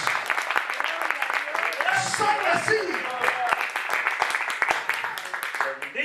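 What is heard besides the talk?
applause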